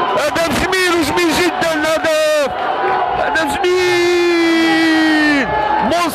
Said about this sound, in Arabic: المدرجات الملعب البلدي تهتز الآن بالجهات الجماهير الخضراء